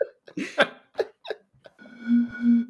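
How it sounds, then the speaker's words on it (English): After a few short vocal noises and chuckles, a drawn-out, oddly tonal burp rumbles low and close, wavering in two swells before stopping. "That was a weird sounding burp."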